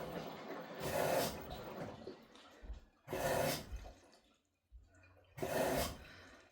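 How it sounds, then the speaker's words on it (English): Water drains from a Kenmore washing machine being repaired for an LE error code, heard as three separate rushing, gurgling surges with quiet gaps between them. The sound is faint and close by. "It's draining all the water out."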